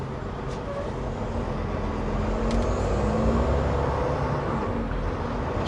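Sterling gas truck rumbles past on the road at speed, a steady low engine drone with traffic noise, moderately faint and continuous from start to finish.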